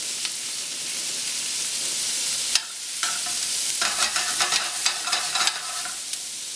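Onions for chicken marsala sizzle and fry steadily in a pan after deglazing, a close continuous hiss broken by scraping and stirring clatter along the bottom.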